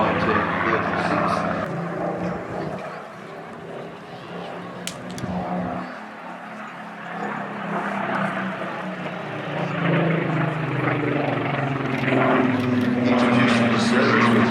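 A Supermarine Spitfire flying display at an airshow: a propeller engine drone swells and fades, then rises again louder near the end, with an announcer talking over it.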